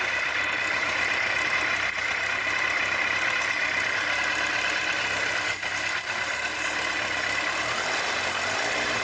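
A cold Kawasaki ZZR1100 motorcycle engine idles at about 1000 rpm, giving a steady, continuous mechanical drone that stays loud and even for the whole stretch with no talk over it.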